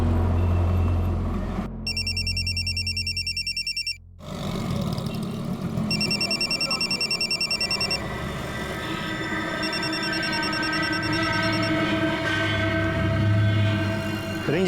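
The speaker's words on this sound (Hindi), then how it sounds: "फोन की रिंग घर के अंदर बज रही है" A mobile phone rings inside a locked house in a Crime Patrol drama episode, its electronic ringtone sounding in repeated two-second bursts separated by pauses, over a low background rumble.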